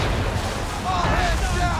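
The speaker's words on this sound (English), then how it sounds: "Fire broadside!" Ship cannons firing a broadside in the naval battle of Assassin's Creed III, a dense continuous roar of booming gunfire with a faint tonal whine riding through it, loud and unbroken.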